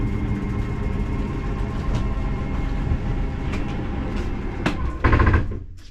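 The slide-out mechanism on a 2016 Palomino Solaire 267BHSE travel trailer retracts with a steady, loud mechanical grinding drone for about five seconds, then a heavier clunk as it locks in and the motor cuts off.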